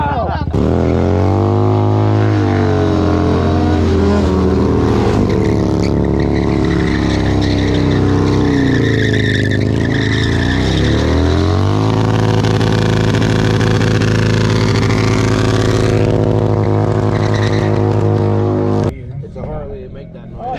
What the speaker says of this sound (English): It's a Harley to make that noise.